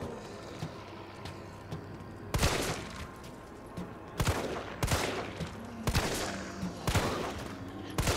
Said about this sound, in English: I heard some gunshots too again. In the background.